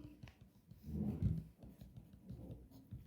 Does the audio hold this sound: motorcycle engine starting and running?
no